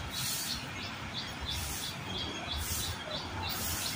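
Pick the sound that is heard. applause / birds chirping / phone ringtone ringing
birds chirping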